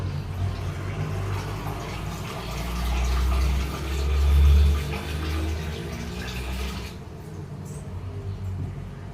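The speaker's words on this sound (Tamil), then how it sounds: "தண்ணி பிடிச்சிக்கலாம் மிக்ஸி ஜாரில்." Tap water runs steadily into a mixer grinder jar, a rushing gurgle with a low rumble that swells midway, then softens.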